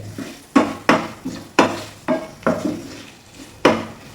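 Vegetables and masala being stirred and sautéed in oil in a pan: a spoon scrapes and knocks against the pan in about eight distinct strokes, irregularly spaced, close and clear, with a faint sizzle underneath.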